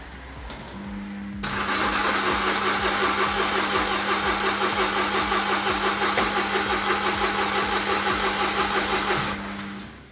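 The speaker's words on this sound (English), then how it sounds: "Okay, let's start the car." A Ford Fiesta's engine cranks steadily for several seconds with a rapid, rhythmic churning, loud and close, without catching for lack of fuel, then stops.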